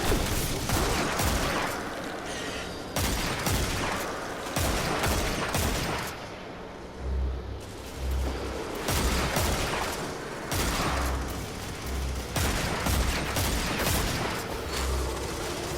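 Heavy, sustained gunfire in the Dead Man's Tale game, loud and close, with dense volleys and booming impacts that pause briefly before resuming.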